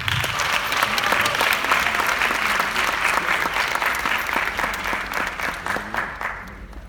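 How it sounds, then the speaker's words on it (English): An audience applauds after a speaker's introduction at a South Carolina State event, a dense, steady clapping that fills the room and slowly tapers off toward the end. "So please give a wonderful round of applause for your speaker, Mr. Renaldo Lawrence."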